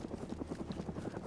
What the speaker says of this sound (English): That's a helicopter event. That thing eventually crashes, and then there's loot around it.